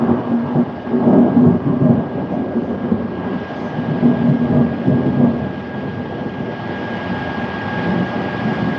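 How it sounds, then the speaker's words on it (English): A thunderstorm rolls out a loud, deep rumble of thunder that swells and lingers without a break for several seconds, heavy and close, with no talking. "That was a loud thunder."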